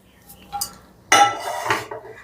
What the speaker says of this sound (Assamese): এতিয়া মই এয়া পেনত ভাজি থোৱা চুজিখিনি মই ইয়াতে দি দিছোঁ